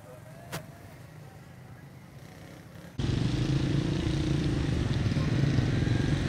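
A motorcycle engine roars in abruptly on a street in Islamabad or Rawalpindi, a loud steady drone that stays close after a quieter stretch of background traffic noise.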